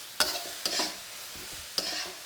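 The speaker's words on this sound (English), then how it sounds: "let that hit the bottom of the wok. Once it starts to sizzle," Rice sizzles and hisses in a hot wok, with a few scraping stirs marking three bursts over a steady frying crackle.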